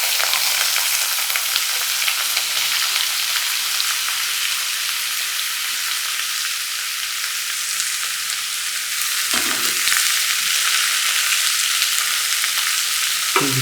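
Brinjal sizzles and fries in a pan for brinjal tomato sabji, giving a loud steady hiss with a brief stirring clatter near the end.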